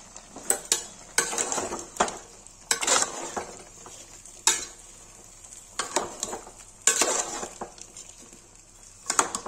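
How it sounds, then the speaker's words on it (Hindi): Mutton fries with onions in a pan, with a low sizzle under repeated close, loud spatula scrapes and metallic clanks against the pan in an uneven stirring rhythm. "देखिए गाइस मटन हो गया, इसे प्याज डाल देंगे।"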